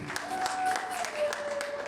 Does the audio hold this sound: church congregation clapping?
yes